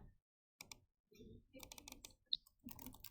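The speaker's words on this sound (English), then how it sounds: "I'm just typing gibberish." Someone types random gibberish on a computer keyboard, producing short irregular bursts of quiet clicking keystrokes with brief pauses between them.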